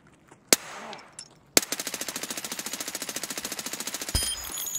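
Gunfire in the Escape From Tarkov video game: two sharp single shots early on, then a long rapid automatic burst of evenly spaced rounds, loud and close, ending with another blast near the end.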